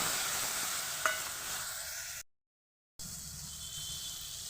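Spices frying in a pan for rui fish curry give a steady, faint sizzle. A single light stir clinks against the pan, and the sound cuts out briefly partway through.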